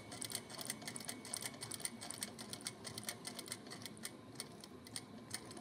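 A sewing machine runs steadily, its needle clicking in a quick, even rhythm while it stitches a quarter-inch seam on scarf fabric, quiet and close throughout.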